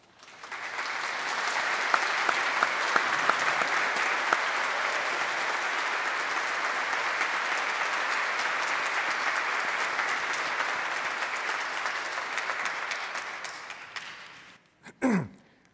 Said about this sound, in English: I'd ask you all to give them a sincere round of applause